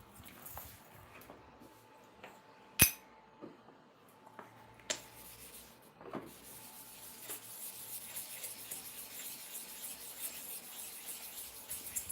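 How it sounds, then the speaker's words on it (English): A barber's clipper blade is sharpened by hand with soft, quiet rubbing and scraping strokes that grow steadier and more continuous toward the end, broken by a few sharp clicks and taps. "Let us repeat the sharpening again."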